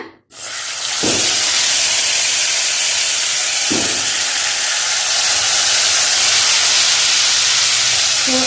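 Mashed tomatoes poured slowly into hot oil with asafoetida for tomato chutney, setting off a loud, sustained broadband sizzle that begins abruptly and stays steady throughout.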